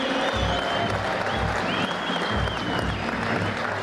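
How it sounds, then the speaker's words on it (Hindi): Dense, steady applause from a large crowd fills a stadium during a ceremonial presentation of police colours in Gangtok, continuous and loud for the whole stretch. "गड़गड़ाहट तालियों की गूंज से माहौल को और उत्साह से बनाने की कृपा करें"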